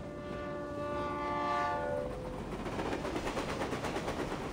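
A train arriving in the video game Reverse: 1999 sounds a sustained horn that cuts off after about two seconds, then gives way to a rumbling, rhythmic clatter of wheels on the rails.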